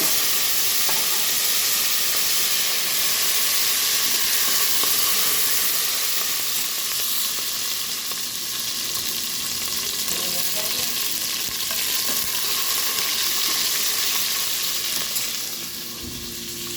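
Cumin, mustard seeds, fennel, curry leaves, chopped onion and dried chillies fry in hot oil for a chicken roast, a loud continuous close-up sizzle and hiss with faint stirring underneath throughout.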